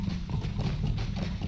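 A horse gallops in a Lord of the Rings video game, its hooves clip-clopping in a quick, even rhythm, loud and close.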